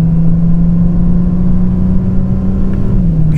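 A Bentley Continental GT engine hums steadily under acceleration, a smooth, muted drone heard from inside the cabin with no one speaking.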